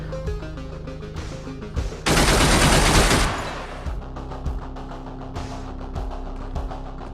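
Automatic turret firing a loud, dense burst of about a second in the video game Receiver, set among scattered single shots and clicks of game sound.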